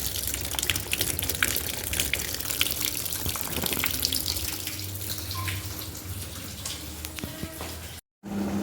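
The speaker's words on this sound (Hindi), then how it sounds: "ये बस पानी वानी भर देती हूँ।" Water gushes steadily from a household tap, filling a container, a continuous close hiss and splash that runs for several seconds before cutting out briefly.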